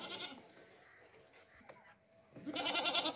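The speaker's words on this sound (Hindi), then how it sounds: "बहुत ही जबरदस्त बकरा है माशाल्लाह से" A goat bleats in a livestock market, giving a raspy call at the start and a longer, louder bleat near the end, with no speech.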